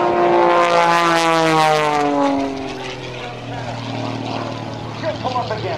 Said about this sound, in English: climbing for altitude, stopping the airplane almost in midair, pushing on the left rudder pedal, does the hammerhead stall turn